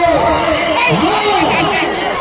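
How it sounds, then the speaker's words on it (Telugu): Farmers and onlookers shout and call out together at an Ongole bull race in a village, a continuous dense crowd clamor with raised voices rising and falling close by. "రైతు సోదరులు కేకలు వినిపిస్తూ"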